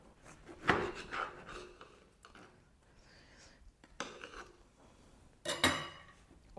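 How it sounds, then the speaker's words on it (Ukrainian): Knife slicing a loaf of pan-baked bread into portions, with several crisp crackling cuts and scraping strokes against a board, close and moderately quiet, a louder cut near the start and another near the end. "Я спочатку розрізаю його навпіл, а потім на порційні шматочки."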